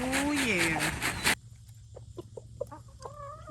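Chickens and a rooster in a pen on a Florida homestead: a loud, close rooster crow gives way to scattered, softer clucks and short calls, with a faint steady hum underneath.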